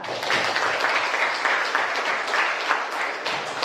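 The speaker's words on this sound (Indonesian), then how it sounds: "berikan tepuk tangan untuk mereka" A class of students claps in a steady, dense patter of applause for their peers, fairly close and even in volume, with no talk over it.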